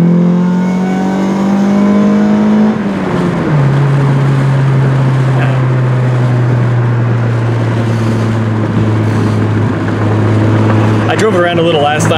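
A Honda car engine with a P28 ECU idles and then revs up, its steady drone rising and settling over several seconds, loud and close, with a brief clatter near the end.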